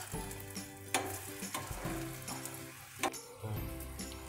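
Brinjal slices shallow frying in oil in a pan, a dense crackling sizzle up close, with a few sharp clatters as the slices are flipped over with a utensil.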